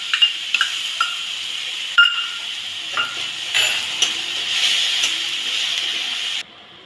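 Ginger-garlic paste being stirred into frying onions: a continuous sizzle with repeated scraping and clinking of a spoon against the pan, fairly close, with no talking.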